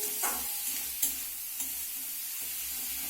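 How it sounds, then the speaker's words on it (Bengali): Carrots and green peas are stir-fried in a pan with a spatula, making a continuous sizzle with several distinct scraping stir strokes at irregular intervals and no voices. "গাজরটা দিয়ে দিচ্ছি গাজর আর মটরশুঁটিটাও দিয়ে দিলাম আবার একটু কষিয়ে নিতে হবে"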